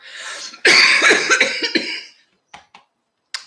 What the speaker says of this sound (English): this cough is going to be the death of me one day